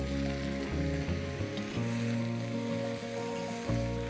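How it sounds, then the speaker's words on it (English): Shelled, deveined prawns sizzle steadily in a pan with ginger and garlic, a close, continuous frying hiss over low tonal background music with no talking. "I'm going to add half a kg of shelled and deveined prawns."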